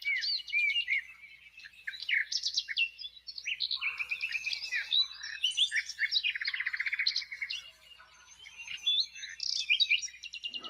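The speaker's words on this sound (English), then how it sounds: "The birds are eating the peanuts, and the squirrels eating the bird food." Birds feeding on peanuts outdoors on an overcast day, chirping and tweeting in rapid overlapping bursts throughout, fairly close and clear with no talking.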